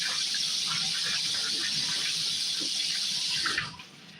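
Tap water running steadily into a sink while items are washed under it, a constant bright hissing splash with faint clatter, close and fairly quiet, then cutting off near the end.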